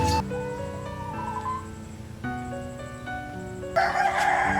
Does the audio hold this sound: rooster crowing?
yes